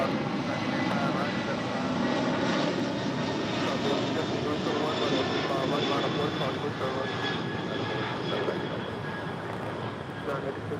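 A fixed-wing airliner in New Pacific Airways livery, formerly Northern Pacific, roars steadily at an airport runway, the broad engine noise constant and fairly loud throughout.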